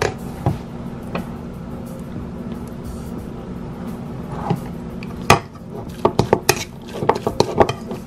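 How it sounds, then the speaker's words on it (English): A spoon scrapes and clinks against a bowl while tuna salad is stirred with mayonnaise, a low steady hum underneath and a cluster of sharper clatters near the end. "And continue to stir until you get the consistency that is conducive for you."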